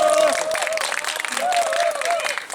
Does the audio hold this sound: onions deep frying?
no